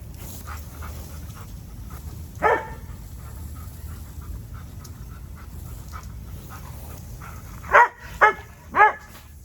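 A dog pants steadily at close range, then gives one bark and, near the end, a quick burst of three sharp barks.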